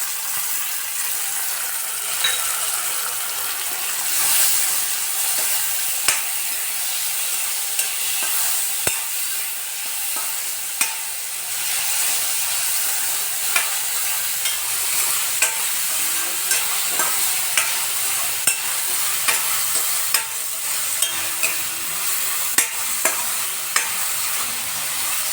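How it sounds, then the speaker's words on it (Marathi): Chopped onion and tomato fry in a pan with a continuous hissing sizzle, while a utensil stirs and scrapes, producing regular sharp clicks throughout without talk. "तर आता कांदा टाकूया. टोमॅटोवर कांद्यासोबतच टाकून देणार."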